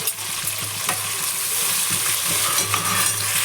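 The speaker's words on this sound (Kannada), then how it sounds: "ಆನಿಯನ್ ಫ್ರೈ ಆಗಿದೆ." Onions fry for a chicken keema curry, with a dense, bright sizzle of hot oil that holds steady throughout and occasional scraping stirs in the pan.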